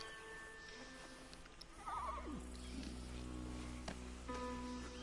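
A horse in Red Dead Redemption 2 gives a single clear neigh partway through, close and moderately loud, over a constant low ambient rumble of the game world.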